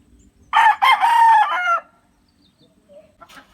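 A gamefowl rooster crows once, loud and close, a drawn-out cock-a-doodle-doo, followed by quiet background rustling and a faint bird call.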